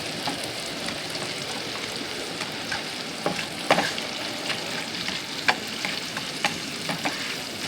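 Spring onion hits a fish fillet frying in oil, a steady close sizzle with scattered pops and a few sharp stirring scrapes across the pan.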